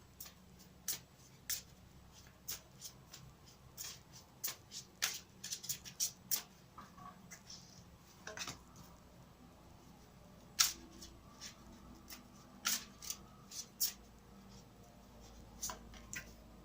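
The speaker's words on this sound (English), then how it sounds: "I'll give them another quick shuffle for you." Soft irregular tarot card riffles and taps, with quick clicks and flicks scattered across a quiet room, close by and fairly faint.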